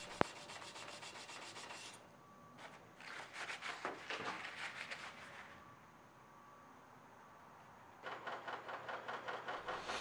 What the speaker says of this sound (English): sand it to final surface finish